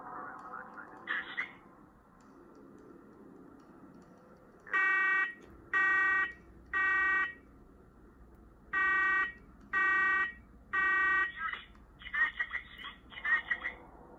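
A smoke alarm sounds in a basement, close and loud, with a run of evenly spaced shrill beeps in two groups of three and four, followed by scattered shorter chirps.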